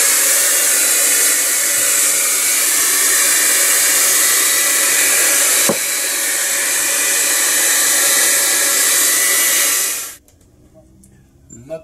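A hair dryer blows a loud, steady roar at close range while drying a television terminal, then cuts off abruptly near the end, leaving faint handling noise.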